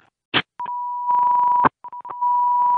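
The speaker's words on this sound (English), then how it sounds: "Alarm's going off." A smoke alarm sounds inside a burning house during a working dwelling fire in Middletown, Bucks County, Pennsylvania, giving loud, close, steady electronic tones broken by short gaps and a few clicks.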